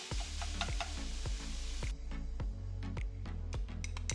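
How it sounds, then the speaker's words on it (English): Ground turkey sizzles steadily in a hot pan while a spatula chops and stirs it, producing regular sharp scraping knocks about twice a second over the constant frying hiss. "let's add in the ground meat and chop it up and saute it until it's just about cooked through"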